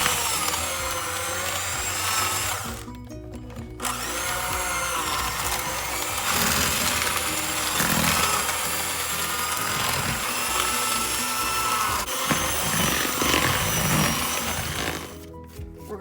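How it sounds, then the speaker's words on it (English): An electric mixer whirs steadily as it beats white sugar into cream cheese for a strawberry pretzel salad, a loud continuous motor drone with grinding texture that cuts out briefly twice and is heard alone. "we're going to go ahead now and just give that a mix and start softening that cream cheese"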